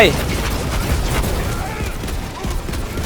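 Gunfire in the video game Tiny Tina's Wonderlands comes as dense, loud bursts of shots and booming impacts that run on continuously, layered with game effects.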